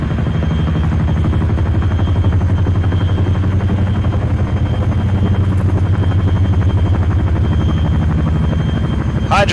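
Helicopter in a military video game: a loud, steady rotor drone with a rapid low thumping pulse that holds for the whole stretch, close and unbroken.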